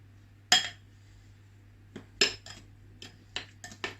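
A utensil clinks sharply against a bowl while spices and sugar for a pumpkin pie are mixed, several quiet, irregular taps and knocks spaced across a hushed kitchen.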